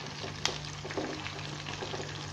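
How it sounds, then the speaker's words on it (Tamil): Fish 65 pieces frying in a pan, a steady close sizzle with a low hum and a couple of faint taps from a utensil. "மீன் நல்லா வெந்துட்டுருக்கு. இப்போ நம்ம இதில் லேசாக திருப்பி விட்டுடலாம்."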